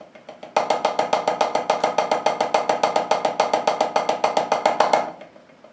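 Rapid, even snare drum strokes in a steady sixteenth-note stream, accenting every sixteenth with ghost-note taps, played alone for about four and a half seconds before stopping abruptly.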